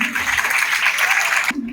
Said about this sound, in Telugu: ఇక్కడ గట్టిగా చప్పట్లు కొట్టుండాలి